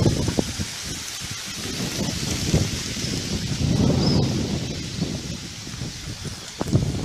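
A sudden gust of wind whirling a mass of dry leaves into the air outdoors, heard as close, rustling, gusting noise with low buffeting against the microphone and a few sharper crackles.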